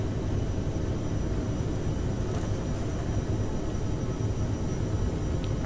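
An airliner in Microsoft Flight Simulator 2020 rolls down the runway for takeoff in a crosswind, with a steady, loud, broadband engine and rolling roar that holds constant throughout.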